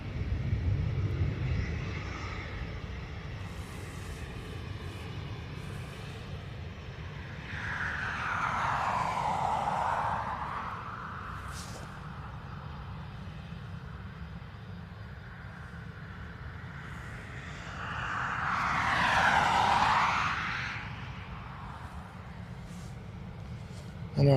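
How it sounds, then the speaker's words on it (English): A Ryanair airliner departing Dublin Airport for Stansted produces a rumbling jet roar with two rising, swelling whooshes as it passes, under quiet background talk. "So this Ryanair off to Stansted."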